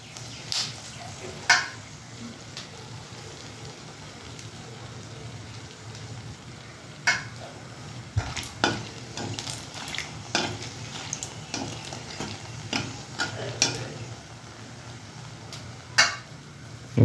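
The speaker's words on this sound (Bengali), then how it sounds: "শুকনো লঙ্কাটা জাস্ট একটু ভাজা ভাজা করে নেব," Dried red chillies fry in a cooking pan under a soft, steady sizzle, with a spatula scraping and clinking against the metal at irregular moments, loudest in scattered sharp taps.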